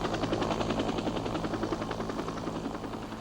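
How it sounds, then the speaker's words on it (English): Helicopter rotors thumping in a steady rapid beat with engine roar, landing on a rooftop and compound during the Saigon embassy evacuation, heard at a moderate distance with no speech. "All afternoon, choppers landed on the rooftop and in the secure compound below"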